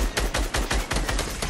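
Semi-automatic gunfire in a video game: a quick run of about eight or nine sharp, loud shots, close and evenly spaced, with no talking.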